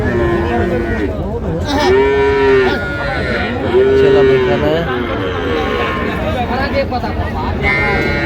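Cattle at a rural livestock haat in Dinajpur give two drawn-out moos over a constant crowd babble and nearby voices.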